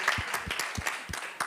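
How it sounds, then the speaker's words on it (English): A demo day audience claps for the expert panel, a small group giving sparse, fairly close hand claps with distinct individual hits over a soft wash of applause. "I just want to give a final round of applause for our fantastic experts here in the front line"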